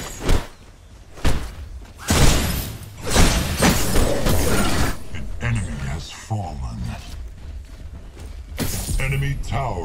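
A tower in the video game Predecessor shatters and crashes down in a burst of loud smashing impacts and thuds, with further crashing debris and game effects under a talking voice.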